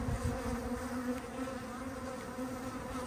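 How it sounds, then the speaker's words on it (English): A wasp buzzes steadily and close by around a beekeeper working an infested hive, a continuous droning hum over faint background noise. "And wasp trying to sting me."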